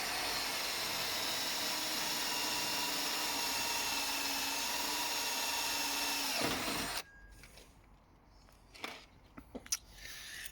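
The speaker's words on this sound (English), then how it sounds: "Just make sure when you're drilling, you don't drill into your bloody radiator" Power drill boring a hole for a Ford Fiesta ST180 intercooler bracket, a loud steady high whine for about seven seconds that winds down sharply, followed by quieter clinks and handling noises.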